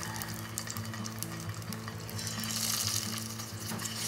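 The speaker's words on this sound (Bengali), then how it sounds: "কড়াইতে নিয়েছি সর্ষের তেল, একটা একটা করে বড়াগুলো ভাজতে হবে।" Banana flower kofta balls fry one by one in mustard oil in a kadai over a low flame. They give a steady, quiet, close sizzle with light bubbling throughout and no voices.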